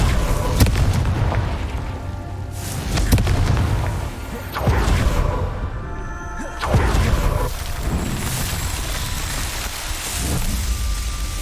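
Confringo spell explosions in the video game Hogwarts Legacy, booming blasts in rapid succession with rumbling low-end decays and crackling debris between them, loud and close, no talk.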